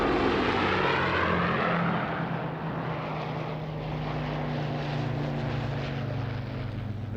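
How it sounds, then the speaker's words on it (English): Merlin piston engines of a Lancaster bomber and Spitfire fighters drone steadily in a low flypast at an RAF Fairford air show, a loud sustained throaty roar that slowly shifts in pitch as the aircraft pass, with no voices. "The grand sound of 5 Merlin engines roaring away."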